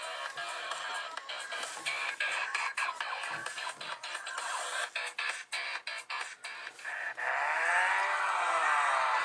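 A car racing video game plays on an Acer Iconia Tab A500 tablet, with engine whine and revving game effects running continuously, broken by brief dips, then a steadier sustained tone near the end.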